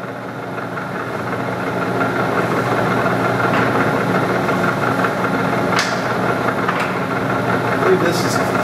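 A metal-cutting machine runs at a higher feed rate of about ten thousandths per revolution, a steady broadband mechanical drone with constant vibration throughout and a few brief high squeals near the end.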